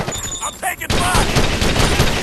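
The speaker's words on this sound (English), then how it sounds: "I'm taking fire!" A rapid stream of gunfire in Ghost Recon Advanced Warfighter breaks out suddenly, close and loud, after a brief stretch of talk and game sounds, and keeps rattling to the end.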